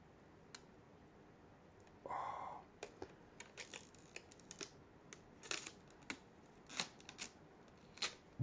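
Protective film is peeled off during an Xbox SSD installation, giving a brief close crackling rip followed by a string of light, irregular clicks and taps, faint and close, with no voices.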